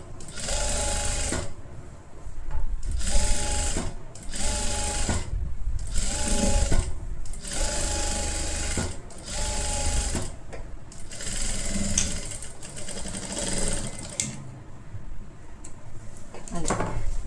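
A sewing machine stitches a halter-neck kurti in repeated rattling runs of a second or two, separated by brief pauses, close and clear, with a voice talking at times between and over the bursts.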